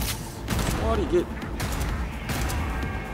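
Gunfire in Cyberpunk 2077 on patch 2.1, rounds going off in pairs as sharp broadband bursts through a busy combat scene, heard under someone speaking Korean.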